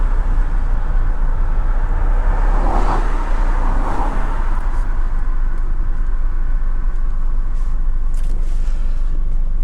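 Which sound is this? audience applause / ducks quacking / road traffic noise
road traffic noise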